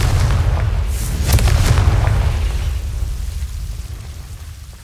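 A Confringo fire spell in Hogwarts Legacy bursts into a deep, rolling explosion, a loud boom with a crackling blast that slowly fades over several seconds.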